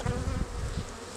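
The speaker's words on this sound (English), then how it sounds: "Bees, they got the bees stirred up." Honey bees buzz during a spring hive inspection, a dense, continuous droning hum from many stirred-up insects close by, with no talking over it.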